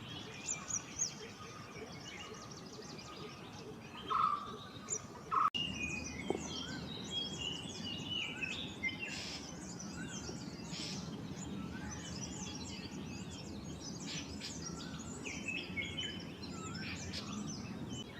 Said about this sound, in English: Perched upon a high branch, the white-cheeked barbet makes its familiar call, a resonant note that drifts through the canopy